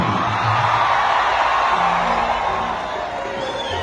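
A large audience at a Bhojpuri stage show cheers and claps in a steady, dense roar of crowd noise that fades slightly toward the end.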